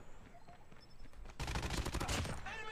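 Gunfire in Call of Duty Mobile: a dense burst of rapid shots erupts after a quiet moment and keeps rattling to the end, fairly faint overall.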